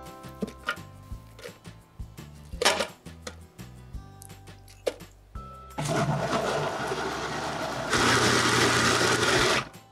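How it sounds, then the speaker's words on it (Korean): Chili peppers being coarsely ground in a blender for radish kimchi: scattered clatter and knocks, then a loud, steady motor whir that begins abruptly, grows louder partway through and stops near the end. "언제든지 고추는 이렇게 거칠게 갈아 주셔야 해요"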